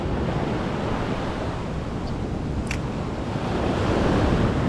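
Waves wash and roll continuously on Karasu beach during fishing, a loud broadband surf roar mixed with wind buffeting the microphone, with no talking.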